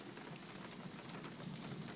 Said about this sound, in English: it's raining. It's all wet on the ground.